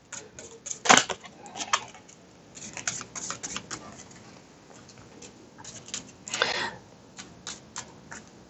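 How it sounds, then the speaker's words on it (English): Someone shuffles a deck of cards during a solo game of the Devil May Cry board game, producing a close series of irregular flicks and riffling card snaps with a louder burst at the start and another later on. "Have to shuffle my deck."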